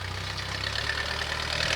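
A Kubota L5018 tractor engine idles steadily and close by, a low continuous rumble with an even mechanical drone that holds throughout, no voices.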